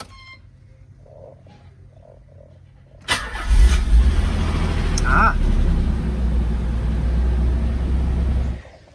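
A Nissan 300ZX Z32 engine cranks over after a quiet moment of faint clicks, catching abruptly into a loud, steady idle that runs for several seconds before cutting off, recorded close by.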